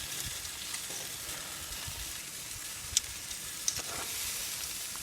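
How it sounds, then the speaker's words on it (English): Western rock lobster, or crayfish, searing in a hot pan, giving a steady broadband sizzle with no talk, broken by two sharp clicks near the middle. "once you cook them, don't worry about turning them over, you've already seared the top"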